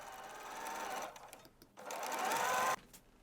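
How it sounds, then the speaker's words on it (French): A sewing machine stitches the side seams of a jacket in two fast, steady bursts, close and clear, with a brief pause between them and no talk. "Piquez à 1 cm du bord."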